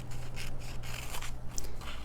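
Scissors cutting along a line on a paper sewing pattern for an elephant stuffed animal, a quiet series of soft snips and scraping slices close by, with no talking.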